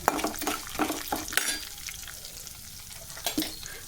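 Ingredients for a ginger coconut chutney fry in oil with a close crackling sizzle and quick stirring scrapes, louder in bursts at the start and end.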